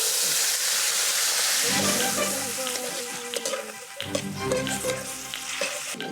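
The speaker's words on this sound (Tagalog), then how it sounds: "prepare lang natin yung ating kamatis. Lagay lang natin doon sa ating pan." Tomatoes drop into hot oil in a pan and sizzle loudly, the frying hiss swelling with stirring and the clink of a utensil, close at hand with a faint voice underneath.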